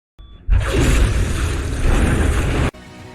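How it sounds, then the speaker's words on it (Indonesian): A loud, sustained explosion as a police station is blown up in The Dark Knight, a dense roaring boom lasting about two seconds before cutting off sharply. "Joker berhasil meloloskan diri dengan meledakkan kantor polisi"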